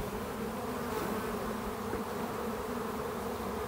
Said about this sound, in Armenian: Հիմա մեղուները, որ աշխատավոր մեղուն է